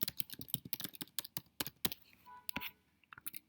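Rapid keystrokes on a computer keyboard while an email address is entered, a close, steady run of clicks with a couple of brief pauses and no talking.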